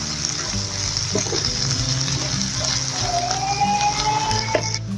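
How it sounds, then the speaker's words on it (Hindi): Garlic-ginger paste sautéing with onions in a pan for pasta macaroni, a steady sizzle and light frying crackle running throughout, with occasional stirring clinks and scrapes. "अच्छी तरह से इसको सौते कर लें लहसुन अदरक को इसमें प्याज में।"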